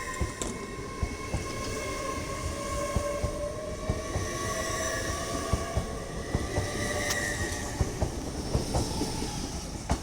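A Class 170 Turbostar idles and moves at Doncaster station, producing a steady engine drone with rolling rail noise and scattered clicks and squeals of wheels, continuous and fairly close.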